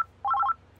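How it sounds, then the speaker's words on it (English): A telephone trills briefly as a call is placed to an award winner, a short electronic warble of alternating tones repeating quickly for about a third of a second, clear against a low background hum. "we thought instead we'd surprise our winner with a phone call"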